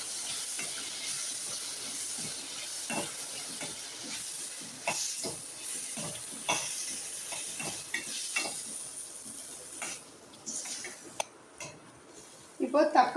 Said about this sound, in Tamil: அதுக்கப்புறம் நம்ம தக்காளி பழத்தை போட்டுக்கலாம். தக்காளி நல்லா வதங்கட்டும்.